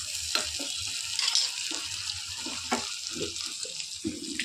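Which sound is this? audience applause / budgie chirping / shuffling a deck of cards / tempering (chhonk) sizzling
tempering (chhonk) sizzling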